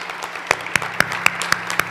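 A church meeting congregation claps together in a steady, rhythmic beat, sharp loud claps landing about four per second over a low hum.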